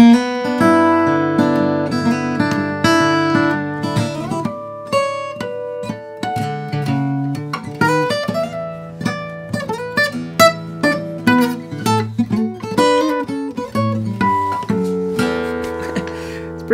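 Fingerstyle acoustic guitar plays a melodic passage of a song with plucked chords and bell-like harmonic notes ringing out, clear and close, no voices.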